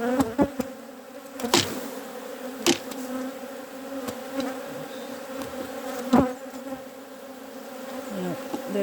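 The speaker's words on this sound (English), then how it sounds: "You can see this is a busy hive." Honeybees hum around an open, busy hive in an Irish apiary, a dense steady drone close by, punctuated by a few sharp knocks and clicks from handling the hive frames.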